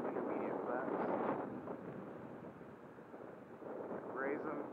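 Wind gusts buffet the microphone during an E-Flite Timber RC plane flight in high wind, a steady loud roar that swells and eases across the clip, with a brief raised voice near the start and end.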